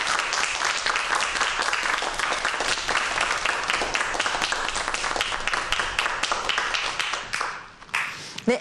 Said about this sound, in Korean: 함께 박수로 환영해 보도록 할까요?